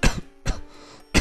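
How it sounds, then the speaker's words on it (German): Three sharp coughs from one person spaced about half a second apart, close and fairly loud, with short quiet gaps between them. "Entschuldigung für diese kurze Unterbrechung. Das Husten meine ich."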